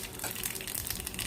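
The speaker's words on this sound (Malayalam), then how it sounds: "കടുക് പൊട്ടിച്ച്" Mustard seeds crackle and splutter in hot oil in a pan while tempering a ripe banana pulissery, giving a dense, steady hiss with quick popping bursts, close and fairly loud, with no voices.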